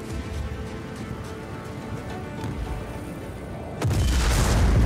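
An object blown up in Just Cause 4 sets off a sudden loud explosion near the end, leaving a sustained roar of blast and debris after a stretch of quieter game ambience.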